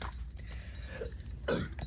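A pet dog gives a couple of short yips and whimpers, close by, as the mail carrier arrives at the house.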